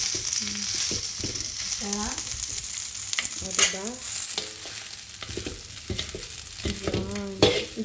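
Rice and vegetables fry in a pan, with a steady sizzle and repeated scraping stirs throughout, while a person talks over the cooking.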